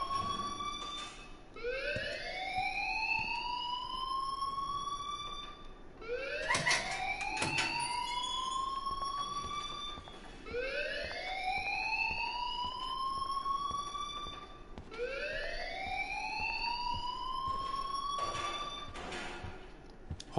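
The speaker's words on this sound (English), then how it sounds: "please turn off that alarm since that's your job" Alarm in the Life is Strange video game, four repeating rising electronic whoops that sweep upward in a regular cycle, loud and unaccompanied by talk.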